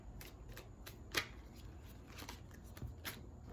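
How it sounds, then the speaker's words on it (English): Tarot cards being shuffled by hand, a dry papery riffle with scattered soft flicks and one sharper slap, close and fairly quiet, no talk. "These cards are so hard to shuffle."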